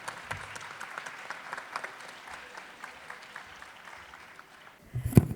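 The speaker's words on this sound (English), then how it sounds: "Please join me in giving another round of applause to the wonderful team, music team" An audience at a Bharatanatyam Arangetram gives a soft, sustained round of applause for the music team, with a louder thump near the end.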